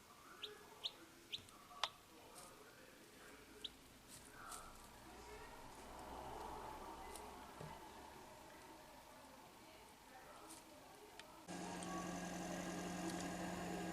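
Newly hatched Braekel chicks peeping in an incubator, a few sharp, isolated high chirps early on over a faint background hum, with a louder steady noise taking over near the end.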